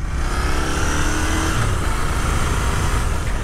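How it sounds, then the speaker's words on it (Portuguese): A loud Royal Enfield motorcycle engine runs close by, a dense, steady throbbing rumble held for a few seconds with no voices. "De moto barulhenta, a gente tem nas Royal Enfield"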